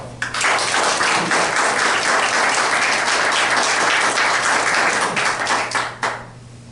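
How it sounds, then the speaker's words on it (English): A church audience applauds in a sustained wave of dense, loud clapping that starts abruptly and fades out after about six seconds. "I don't think I've ever had family clap for me."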